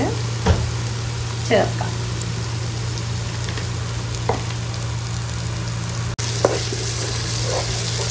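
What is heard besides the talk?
thick curd added to frying masala, sizzling and stirring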